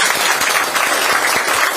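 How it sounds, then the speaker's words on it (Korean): Steady applause from an audience at a Democratic Party of Korea supreme council meeting in Yeonggwang, South Jeolla, a dense, continuous clapping that fills the room with no voices over it. "격려의 큰 박수 좀 부탁을 드립니다"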